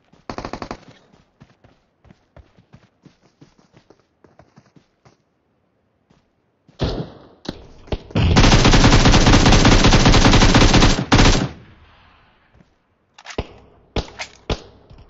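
Rapid automatic gunfire in the battle royale game PUBG Mobile: scattered single shots, then a loud sustained burst of fast fire lasting several seconds, followed by a few more sharp shots, with no talk.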